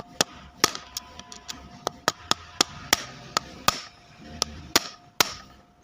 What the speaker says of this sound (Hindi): पेचकस रख के चोट मारेंगे